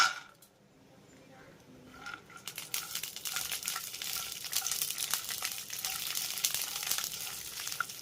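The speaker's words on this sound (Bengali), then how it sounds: "তেলটা ভালোভাবে গরম হয়ে গেছে আর এবারে আমি এই তেলের ভিতরে ছেড়ে দেবো এক মুঠোর মতো কাঁচা বাদাম" A handful of raw peanuts drops into hot oil for a vegetarian bottle gourd dish and starts to sizzle. A loud, bright crackling hiss builds after a quiet start and stays close and steady.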